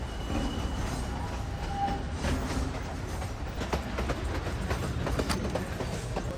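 A Durango and Silverton narrow gauge train rolling steadily along rails, with rumbling wheels and intermittent clicks and clacks from the track, fairly close.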